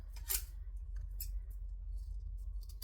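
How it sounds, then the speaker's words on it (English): Scissors snip through number 5 zipper tape for sewing, a few short, faint, crisp cuts near the microphone with no talking. "And I always like to cut zipper tape with the back part of the scissors."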